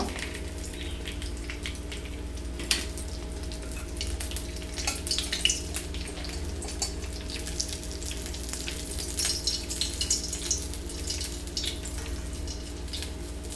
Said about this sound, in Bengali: মাছের মাথাগুলো দুদিক দিক থেকে ভালোভাবে কড়া করে ভেজে নিয়েছি